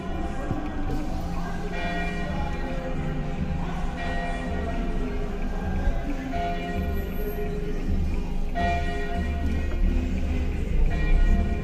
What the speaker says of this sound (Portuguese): Tô escutando os badalaços da igreja